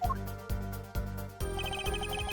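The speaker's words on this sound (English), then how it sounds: "I used my cell phone to call the police." A cell phone ringtone from the Apollo Justice: Ace Attorney video game plays as a bright electronic melody with a pulsing beat, repeating in short phrases and loud and alone with no speech.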